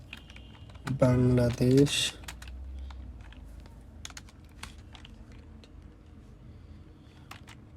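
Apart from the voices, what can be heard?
typing on a computer keyboard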